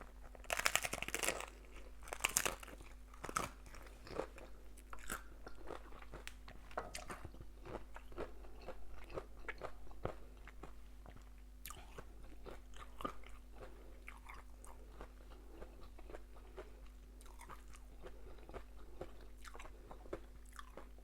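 Close, crisp crunching and chewing of a crispy spiced taco, with repeated bites and munches running steadily throughout, the strongest crunches near the start, with no talking.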